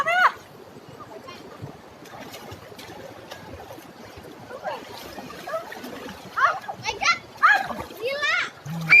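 People bathing in a calm river at a nature spot, with water splashing and sloshing throughout and children's voices and excited talk growing louder toward the end.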